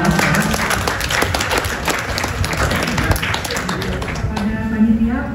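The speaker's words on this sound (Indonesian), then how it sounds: "Tepuk tangan untuk Bapak." Audience applause at a pain seminar during a hospital clinic grand opening, a dense steady wash of clapping hands lasting throughout, with a voice speaking near the end.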